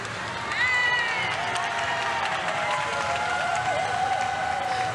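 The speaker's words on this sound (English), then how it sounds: "Somebody must have finished over that way. Got some applause going on." Audience clapping at a live salon hairstyling competition, a steady patter of applause rising after a moment and continuing under nearby talk.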